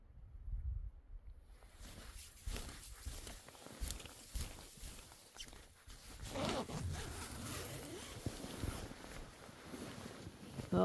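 Clothing or sleeping-bag zipper pulled inside a van parked on a snowy mountain at night, with repeated close zipping strokes and rustling of fabric over about eleven seconds, no voices.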